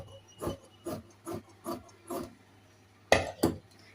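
Scissors cutting through blouse fabric, a series of about seven crisp snips at a steady rhythm, close and clear, with two sharper cuts at the end and no talking.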